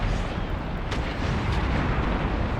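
Ship cannons firing chain shot in Empire: Total War, a dense rumbling barrage of naval gunfire with overlapping booms and a couple of sharper reports, loud and continuous throughout.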